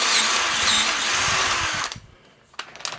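A step drill bit whines loudly, cutting into aluminium for about two seconds, then stops, leaving a few faint clicks and handling noises.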